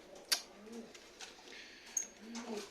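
Soft, low pigeon coos repeat a few times close by in a pigeon coop, with a couple of sharp clicks and faint background sounds.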